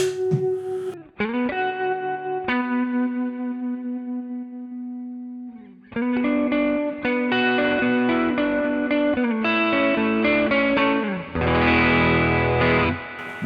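Electric guitar played through a NUX Cerberus multi-effects pedal with reverb on, sustained chords ringing out and decaying with a lush tail, then busier strummed and picked passages, loud and alone.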